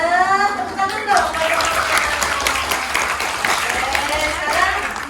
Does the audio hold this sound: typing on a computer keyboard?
no